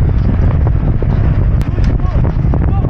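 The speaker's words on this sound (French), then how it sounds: "Il y a du vent" Strong wind on a beach at Lacanau buffets the microphone in a constant low roar, with faint voices and outdoor activity underneath.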